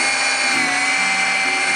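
A power drill bores a hole in the center of a wooden cake board, holding a steady, high-pitched whirring tone throughout at close range without any speech.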